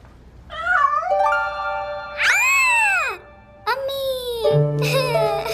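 A cat meows loudly and close by, letting out a series of drawn-out, rising and falling cries, roughly four in a row with short pauses between them and no talking over them.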